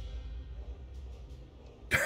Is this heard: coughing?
yes